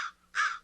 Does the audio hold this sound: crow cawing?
yes